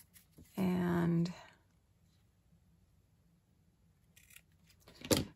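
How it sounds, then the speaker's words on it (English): Scissors trim paper for a toilet-paper-roll Christmas reindeer craft, giving a brief close snip or two near the end after a short voiced sound and a quiet pause. "So I'm just going to trim a little bit off here."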